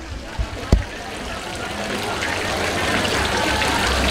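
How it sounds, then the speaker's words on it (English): A water fountain splashes in a busy street in Singapore's Little India during Diwali, a continuous hiss of falling water that builds slightly, with a couple of brief knocks near the start. "Okay, I found my favorite water fountain."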